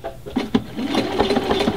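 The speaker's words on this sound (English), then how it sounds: "now I'm gonna do the end on this side of the buttonhole" A sewing machine stitching a buttonhole runs close up, its needle tapping in quick rapid bursts with a mechanical whir, stitching steadily without any voices.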